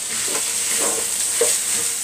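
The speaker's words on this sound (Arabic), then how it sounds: "اما تقلبي الرز عشان يبقى مفلفل وجميل معاكي" Rice being stirred in a pot as stuffing for a duck, a soft scraping stir over a steady background sizzle, close and continuous, with no talking.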